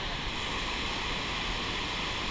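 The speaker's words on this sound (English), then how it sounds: "Damn! That ain't a small waterfall, is it?" A large waterfall in Wales thunders with white water, a constant broadband roar without breaks, heard from a moderate distance.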